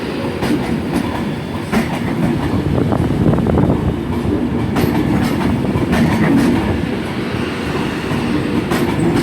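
A Class 390 Pendolino, unit 390.016, on an Avanti West Coast service at Glasgow Central bound for London Euston, rumbles steadily and loudly nearby with rolling wheel noise and occasional clicks throughout, no talking.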